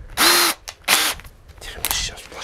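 A Makita drill spins up in two loud bursts with a 35 mm Forstner bit, each burst a rising whine that cuts off, followed by quieter mechanical clicks and handling noise.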